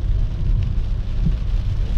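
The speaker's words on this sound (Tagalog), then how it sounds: "sobrang lakas yung mga kalas ng ulan" Heavy rain pours steadily, a dense close wash of low rumbling noise that runs the whole time without a break.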